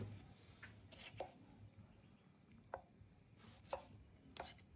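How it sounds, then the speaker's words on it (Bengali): A knife chops fresh local sour tomatoes into large pieces on a board, making a handful of sharp, irregularly spaced cuts that sound quiet and close. "টমেটোগুলি একটু বড় সাইজ করে কেটে নেব"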